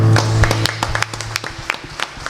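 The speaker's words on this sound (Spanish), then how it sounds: "Quiero invitarlos para que le den un aplauso al Señor." Church congregation clapping in praise during a Spanish-language Sunday worship service, a dense patter of hand claps at mid distance with a sustained low tone underneath.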